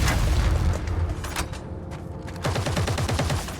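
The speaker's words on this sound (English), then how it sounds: "you'll hear fires, gravel, explosions, turrets firing at you" Rapid turret fire and booming explosions fill a battle scene in the video game EVE Vanguard, with dense bursts of gunfire, a brief lull, then another volley of rattling shots.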